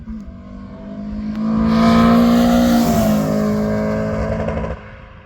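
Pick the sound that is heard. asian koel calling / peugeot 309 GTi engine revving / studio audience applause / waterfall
peugeot 309 GTi engine revving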